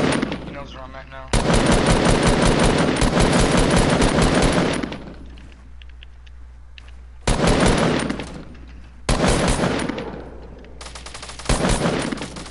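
Gunfire in Fortnite Battle Royale: several loud bursts of rapid automatic fire separated by brief pauses, up close and dominating the mix.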